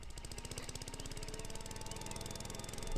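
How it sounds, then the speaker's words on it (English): A steady, buzzing engine drone from a lawn mower in the video game Beyond Eyes, with a rapid pulsing rhythm that holds at an even loudness throughout, heard on its own without talk. "somebody mowing their lawn."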